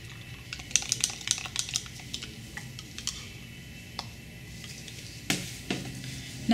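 Gel maker powder being stirred into water for a cosmetic gel, giving a run of light clicking and tapping strokes from the utensil against the container, close and quiet, with a louder scrape near the end.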